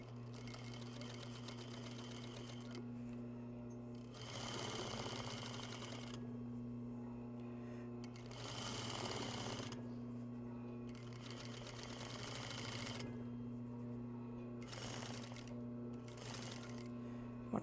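Sewing machine stitching a French seam with back tacks, running in several bursts of rapid stitching over a constant low electrical hum, with pauses between runs.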